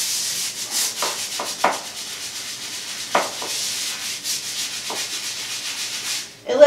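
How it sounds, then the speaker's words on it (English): A brush scrubs moldy shower tile grout in steady back-and-forth strokes, close and continuous, with a few sharper scraping accents and a brief clatter at the end. "I'm going to take this brush and I'm going to scrub and see how much I can get off"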